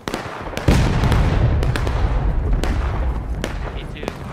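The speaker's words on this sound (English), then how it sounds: "That artillery strike's why we don't stand here." Loud artillery strike in the video game War of Rights: a heavy boom lands near the start, then a dense rumbling roar of explosions and cracks continues throughout, with scattered sharp reports on top.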